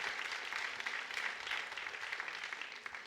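Church congregation applauding in steady, dense clapping that holds at an even level throughout, with no talk over it.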